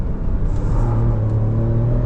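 A 2025 Ford Ranger Raptor's engine pulls hard under full power while driving, a loud, steady, deep rumbling drone that fills the whole clip with no talking.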